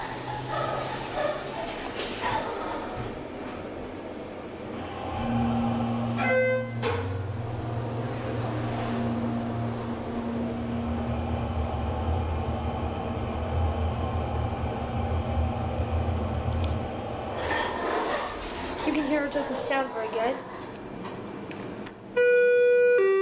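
A ride in a Schindler 321A/330A hydraulic elevator in an office building in Santa Cruz, California: a steady low motor hum and rumble through the travel, with door and chime sounds at start and end.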